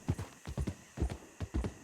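Horse hooves clip-clopping in Red Dead Redemption 2, a steady close trot with paired hoof strikes repeating in quick even rhythm, loud and clear with no talk.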